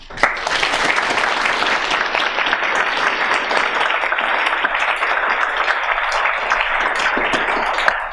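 Steady, dense applause from an evening lecture audience welcoming the speaker, many hands clapping together at an even, sustained level for about eight seconds before cutting off.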